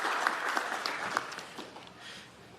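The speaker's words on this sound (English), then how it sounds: "A round of applause to them." Brief applause from an audience at an innovation awards ceremony, steady mid-level clapping lasting a couple of seconds before tapering off.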